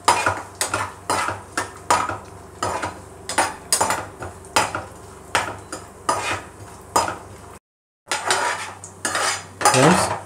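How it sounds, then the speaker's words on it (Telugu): Cashews, pistachios and raisins fry in a pan while a metal spoon stirs them, giving steady rhythmic scraping and clinking strokes, loud and close, with a brief pause before the stirring resumes. "జీడిపప్పు వేగిని దాంట్లో ఇప్పుడు పిస్తా పప్పు, కిస్మిస్లు చివరిగా అవి వెంటనే వేగుతాయి."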